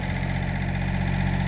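A tractor engine idles close by with a steady low rumble and faint rhythmic vibration, unchanging and alone throughout.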